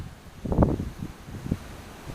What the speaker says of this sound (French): Tu vas avoir le vent plein les oreilles.